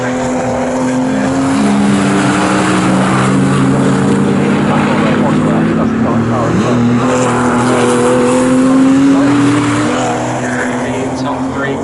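Porsche Cayman race cars of the Porsche Club Championship GB racing at Snetterton circuit, engines droning loudly and continuously with rising and falling pitch as the field passes, under a race commentator's voice.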